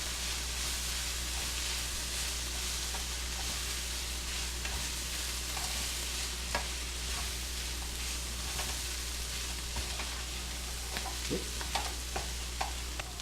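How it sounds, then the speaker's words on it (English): A steady crackling sizzle under a constant low hum, with scattered light scrapes and taps as chili powder and paprika are stirred into a mixture for boar ribs; no one speaks. "Go ahead and mix this stuff all nice and you'll start to get yourself a nice good color to it."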